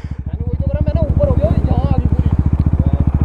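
A KTM Duke 390 motorcycle engine runs close by and loud, its exhaust throbbing in rapid, even pulses that build slightly as it revs for a launch, with someone talking over it.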